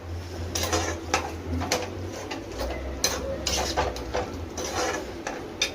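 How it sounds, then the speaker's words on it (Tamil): Prawns and vegetables sautéing in a pan for eral kulambu, with repeated spatula scrapes and clinks against the pan in an uneven rhythm over a low background hum. "அதுக்கப்புறம் நம்ம வந்து இறாவை உள்ளே இறக்கிடுவோம், வதக்கிறோம்"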